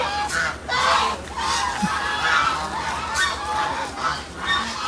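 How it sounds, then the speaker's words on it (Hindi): A flock of ducks being herded near water honk and quack repeatedly in overlapping bursts, fairly close and continuous, with faint background noise. "अभी आपको एक ब्यूटीफुल सा दिखाते हैं डक, बहुत सारे हैं"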